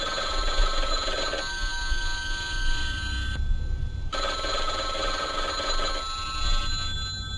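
In the Bloodwash horror video game, a telephone rings insistently with repeated electronic bell bursts separated by a brief pause, loud and close, with no talk.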